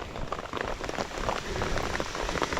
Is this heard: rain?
yes